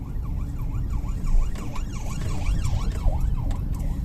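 An ambulance siren passes on a road in Ireland, its wailing tone sweeping up and down repeatedly over steady traffic rumble, loud and close throughout.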